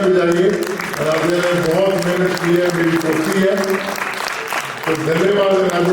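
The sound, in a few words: audience applause for Nadia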